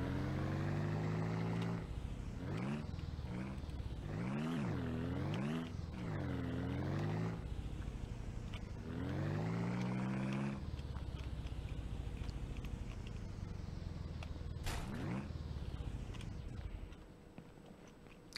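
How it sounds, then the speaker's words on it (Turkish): A vehicle engine in the video game Ranch Simulator cranks and starts, then runs with a revving, pitch-sweeping drone that rises and falls several times before cutting off near the end. "Motoru çalıştıracağım."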